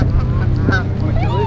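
Geese honk in a loud continuous chorus as a flock comes in to land during a goose hunt, calls overlapping closely with no pauses.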